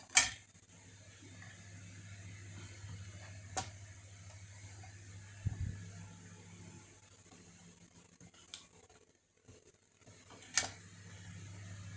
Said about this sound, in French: Excusez-moi, j'ai le ventilateur, comme il fait chaud.